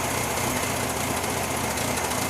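A pink 1969 Volkswagen Beetle engine, running again after the car sat for 14 years, gives a steady, buzzy drone that holds even and loud throughout with no voices.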